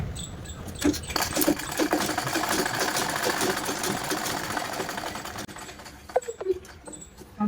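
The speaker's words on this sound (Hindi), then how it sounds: "इस पट्टी को अंदर की तरफ मोड़ देंगे और उस पर कच्ची सिलाई लगा देंगे।" Sewing machine stitching a folded strip on a simple blouse, a steady close whir running almost throughout with a few clicks and handling noises near the end.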